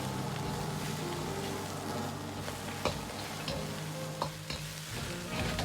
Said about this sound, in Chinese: 煸炒至水分渐少，接着下入姜葱，继续煸炒出香味